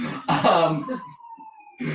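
An ambulance siren passing outside wails at a steady high pitch, moderately loud, with muffled voice-like noises before and after it.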